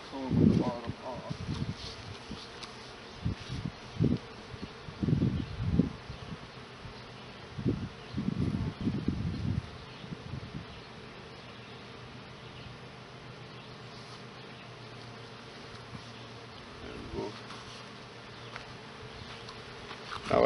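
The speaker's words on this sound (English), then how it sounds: "you see how those bees are just going about their business, going out and getting nectar" Honey bees buzz around an open hive during hive work, with irregular close buzzing bursts as individual bees pass near, easing into a softer, steady background hum.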